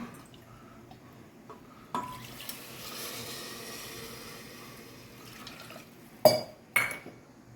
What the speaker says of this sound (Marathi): आपण दोन वाट्या पाणी टाकून घेऊ